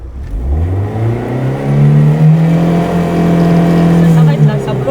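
A BMW E36 engine revs at full throttle during a burnout attempt, a loud close rising drone that climbs and then holds steady near its limit, with people talking over it.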